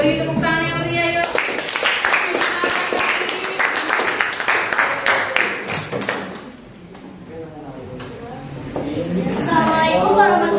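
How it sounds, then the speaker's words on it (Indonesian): An audience in a classroom presentation session claps for a presenting group, with a burst of mixed claps and thumps in the first half that fades as voices talk over and around it. "beri tepuk tangan yang meriah yuk"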